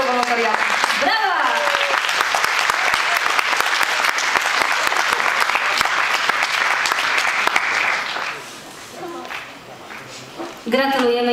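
Loud audience applause at a school volunteering awards announcement in Wrocław, full and steady for about eight seconds, then fading to scattered claps as voices talk over it near the end.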